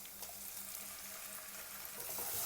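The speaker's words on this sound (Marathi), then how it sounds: "पालक पनीर तडका मारून घेऊया. ऑइल आपण जिरा ॲड करू, कांदा ॲड करूया" Cumin and onion sizzle in hot oil as a tadka for palak paneer, giving a faint, steady frying hiss with a low repeating hum beneath and a slight swell near the end.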